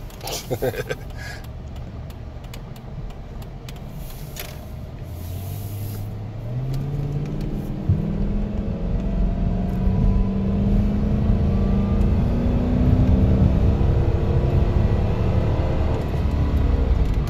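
A 2006 Dodge Magnum R/T with a police-package engine controller accelerates along a road, its engine note rising steadily in pitch and loudness over a continuous rumble of road and wind noise, with no talking.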